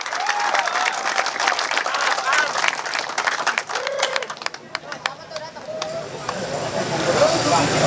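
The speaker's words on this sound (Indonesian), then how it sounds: "Tepuk tangan buat teman-teman semua" Workers at a labor rally outside the Bekasi regional government office clap and cheer in a dense burst that thins into scattered claps, with voices and crowd noise mixed throughout and rising again at the end.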